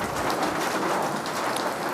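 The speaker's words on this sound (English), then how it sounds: "Can you still hear me over this rain? This is unbelievably loud." Heavy rain pours down in a dense, loud, steady roar of drops hitting surfaces, with a faint rumble underneath and no voices.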